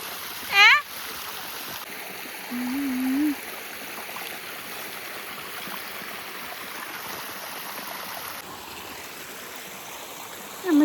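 A forest stream deep in the woods flows with a steady, soft wash of running water, with a few brief bird calls and a short hum over it.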